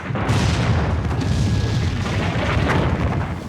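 A cannon firing a solid shot at an outdoor historic battlefield demonstration, one deep, loud boom that rolls out and decays over a few seconds, heard alone.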